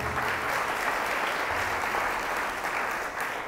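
A church congregation claps hands together in sustained, dense applause that stays steady and loud throughout, with no voices standing out above it.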